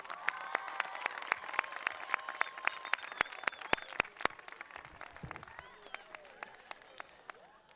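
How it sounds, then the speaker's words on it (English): Audience applause at a Beverly Hills High School graduation ceremony for the orchestra and singers: dense, steady clapping from a large crowd with sharp individual claps standing out, gradually thinning toward the end. "one more round of applause for our tremendous orchestra and magical singers"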